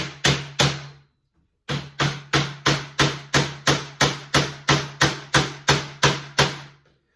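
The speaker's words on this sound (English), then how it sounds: "So I'm going to hammer these nails all the way in." Sharp, evenly spaced hammer blows driving nails into wood, a quick pair of strikes, a brief pause, then a long steady run of loud close hits.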